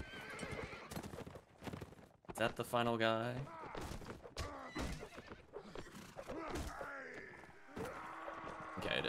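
Horses neighing and galloping in the medieval battle game Mount and Blade Warband, a loud whinny rising over clattering hooves and battle noise while someone talks across most of it.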